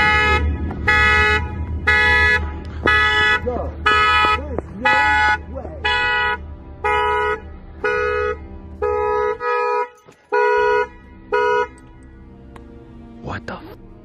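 A car alarm blares in a repeating pulsed pattern of loud tones, cycling through several beeps with a short break near the end.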